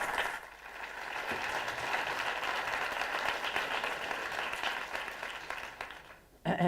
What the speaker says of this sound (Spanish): un fuerte aplauso para Ismael Garancho.